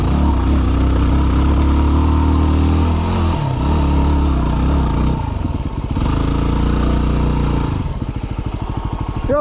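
A dirt bike engine revs hard on a steep mountain climb toward Imogene Pass in Colorado, the rider slipping the clutch; loud, close, pitch surging and dropping unevenly, then choppy sputtering bursts near the end.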